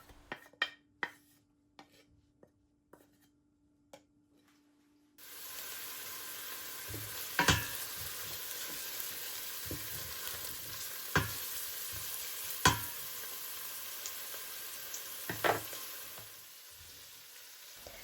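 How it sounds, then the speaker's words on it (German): Garlic and onions sauté in olive oil in a large pot. After a few quiet seconds of sparse utensil clicks, a broad steady sizzle starts up, broken by occasional sharp scrapes and knocks of a spoon against the pot. "Dann nehmen wir uns einen großen Topf, geben das Olivenöl hinein und dünsten zuerst einmal den Knoblauch und die Zwiebeln an."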